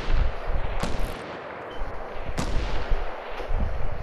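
Gunshots in Fortnite, a few sharp, loud cracks spaced apart amid rumbling game noise, with bursts of rapid fire around them.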